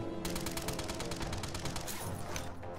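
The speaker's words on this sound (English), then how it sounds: "I'm under fire!" A steady, dense stream of rapid gunfire from a shooter video game, with many overlapping shots forming a continuous loud rattle that barely lets up for the whole stretch.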